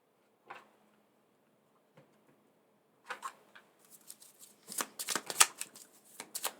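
A tarot card deck is shuffled by hand at close range, with a few soft isolated flicks at first, then a dense burst of rapid riffling cards in a quiet room.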